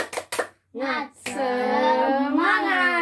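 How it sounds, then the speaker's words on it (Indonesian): Children in an Indonesian classroom do a spirit clap: a few sharp, quick handclaps up close, then their voices chant together loudly and hold a long note. "kita tepuk semangat dulu ya anak-anak"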